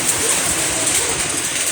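Afternoon rain pours down as a dense, steady wash of close drops, loud and unbroken through the short stretch.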